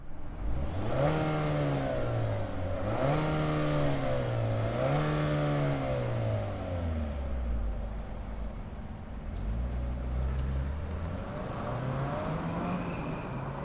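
A 2025 Infiniti QX60 Black Edition turbo SUV starts up and pulls away, the engine rising in pitch through several upshifts before fading into quieter cruising, heard from nearby and moderately loud.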